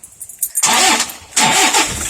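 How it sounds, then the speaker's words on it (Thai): A car engine cranks with a few starter whirs, then catches and settles into idle, close and clear. "อ่าสตาร์ทรถครับ"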